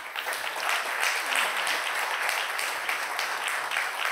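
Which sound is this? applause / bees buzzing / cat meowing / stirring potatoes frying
applause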